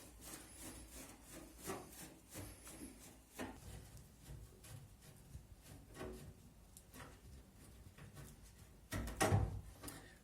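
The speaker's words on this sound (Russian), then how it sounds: "Теперь мы берем крестовую отверточку, придерживая улитку с насосом. Аккуратно откручиваем вот эти два винта." Two screws being undone with a Phillips screwdriver on the drain pump housing of a Samsung washing machine, heard as close, soft scraping and rubbing with scattered clicks and a louder clatter near the end, with no talk.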